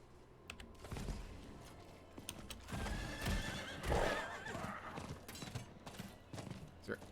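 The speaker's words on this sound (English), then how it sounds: "Is there anything more fun than riding over human beings and former human beings with a horse?" Horse neighs and hooves clip-clop at a gallop in the action RPG Diablo IV, with loud game combat and effects layered throughout and a whinny rising near the middle.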